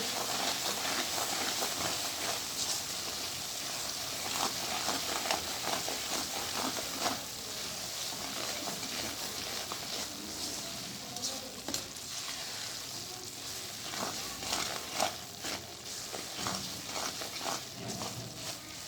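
Sooji halwa sizzles and fries in a pan, a steady crackling hiss with occasional stirring scrapes throughout, no voices present.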